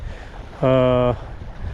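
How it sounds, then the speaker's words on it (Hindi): Strong wind and sea waves at Keti Bandar on the Sindh coast, a steady rushing roar throughout, with a brief tonal blast partway through. "हवा भी तमाम ज़बरदस्त है, बहुत ज़बरदस्त है।"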